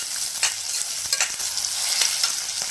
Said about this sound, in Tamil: கூடவே 2 கொத்து கருவேப்பிலை சேர்த்துக்கலாம். சேர்த்து நல்லா வதக்கிக்கலாம்